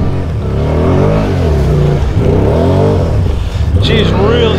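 A Can-Am 650 XMR ATV's engine revs and strains with wavering pitch while axle hopping in thick mud, loud and close throughout, with brief voices near the end.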